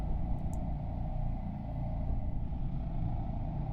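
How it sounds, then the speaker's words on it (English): Low, steady car ambience from the horror game Slender: The Arrival plays as a continuous rumbling engine drone with a faint high hum, without any talk. "Yeah, that's definitely a car."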